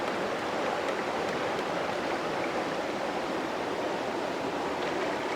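A swift river current rushes steadily, loud and continuous broadband water noise with no break, at a jungle river people plan to cross by raft.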